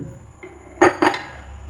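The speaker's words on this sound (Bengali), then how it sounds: "একটা কুকার নিয়ে নিয়েছি, কুকারের মধ্যে দিয়ে দেবো কেটে রাখা আলু" Cut potatoes dropped into a pressure cooker for egg devil: two sharp metallic clinks in close succession, bright and near, after a faint earlier tap, with no talk over them.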